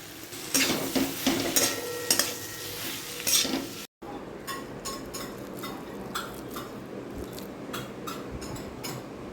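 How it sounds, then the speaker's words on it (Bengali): Spice paste being stirred and sautéed in a pan, with repeated scraping strokes of a utensil against the pan over a soft sizzle, close and steady, and a brief break partway through. "এই পেস্টটা ভালো করে মশলার সঙ্গে কষিয়ে নেব"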